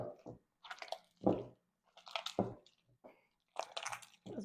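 Wet hands squishing and kneading sourdough dough in a bowl, giving soft, irregular sticky squelches and slaps in short bursts, quiet and close.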